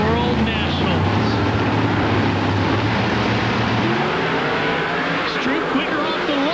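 Drag race cars launch off the starting line at the 2000 IHRA Mopar Parts World Nationals in Norwalk, a loud sustained engine roar with a commentator talking over it.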